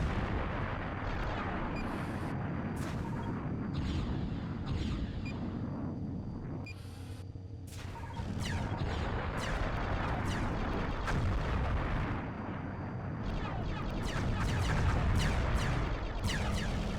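Missiles and gunfire rumble through a space dogfight in the PS1 demo of Colony Wars, a dense, continuous barrage of booming blasts and bursts layered over heavy engine rumble for the whole stretch.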